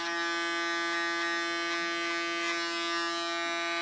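An electric hair clipper runs with a steady, close, loud buzz while cutting hair, with faint pulses as it passes through.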